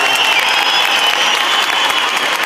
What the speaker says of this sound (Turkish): Şöyle gür bir seda ile bir alkış istirham ediyorum